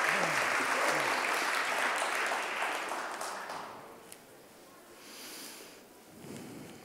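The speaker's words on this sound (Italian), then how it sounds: "Un grande applauso." Audience applause at a B Corp Italia founders' event, strong clapping at first that fades away over a few seconds, leaving a quieter room with faint murmur.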